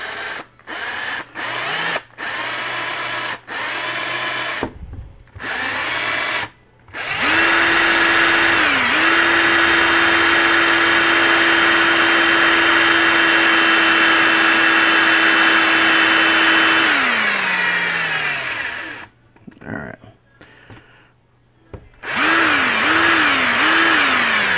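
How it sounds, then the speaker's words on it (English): A power drill whirs in short bursts, then runs steadily for about ten seconds before winding down, followed by a few more quick pulses. "we're going to drill a hole in this part first"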